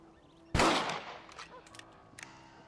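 A single loud rifle shot in Red Dead Redemption, a sharp blast that fades through a short echoing tail, followed by a few fainter knocks and clatters.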